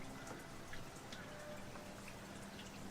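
Light rain sound effect for a Game of Thrones role-playing session, soft steady patter with scattered individual drops, quiet and even throughout, no voices.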